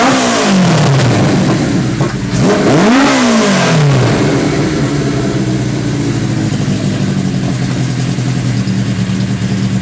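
A customized Suzuki GS850 motorcycle with shaft drive revs loudly through its exhaust, rising and falling in pitch over the first few seconds, then settles into a steady, close, throaty idle.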